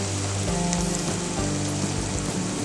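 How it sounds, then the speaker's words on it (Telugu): Onions and ginger paste fry in a pan for Telangana-style mutton keema, a dense, loud, continuous sizzle close by with faint stirring, with no one speaking. "అల్లం పేస్ట్ కూడా మంచిగా పచ్చివాసన పోయేంత వరకు మంచిగా వేయించుకోవాలి"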